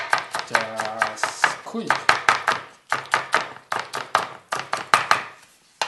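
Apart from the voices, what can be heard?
chopping spring onion with a knife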